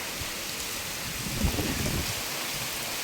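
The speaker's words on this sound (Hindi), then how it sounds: "और बारिश भी धीमी नहीं आ रही है, एकदम बड़ी बड़ी बूंदों वाली आ रही है" Heavy rain with large drops pours down in a forest in a dense, steady hiss, with a low rumble swelling midway through.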